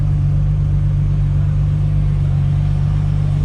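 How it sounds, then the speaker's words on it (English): A Toyota Mark 5 Supra rumbles close by with a steady, loud low engine drone that holds without fading, and no one speaks. "Guys, there goes that car I talked to you guys about last time"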